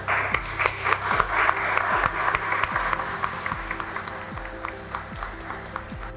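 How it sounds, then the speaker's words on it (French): Audience applause at a Best Chef Afrika cooking competition prize ceremony, steady moderate clapping from a crowd lasting several seconds at a fairly even level. "ça s'applaudit."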